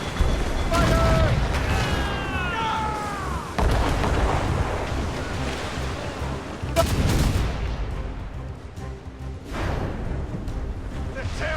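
Ship cannons fire in Assassin's Creed Rogue, heavy booming blasts repeating at irregular intervals amid whistling shots and rumbling impacts, with voices shouting underneath.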